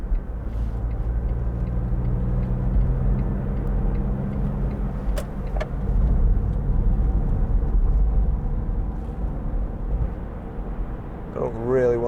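A 2004 Smart fortwo City Passion being driven, its engine hum and road rumble steady and close from inside the cabin, with a brief rising engine whine near the end.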